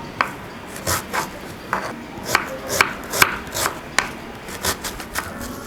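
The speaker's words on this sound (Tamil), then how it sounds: "இப்போ நம்ம வெங்காயம் கட் பண்ணியாச்சு." Knife chopping onion into large pieces on a board for red chilli chutney, a close series of sharp, fairly regular chops with short pauses, no voices.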